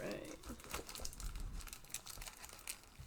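Stampin' Up! paper packaging is pulled open with steady, close crinkling and rustling that keeps going throughout, with faint background sound.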